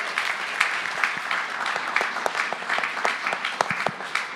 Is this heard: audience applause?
yes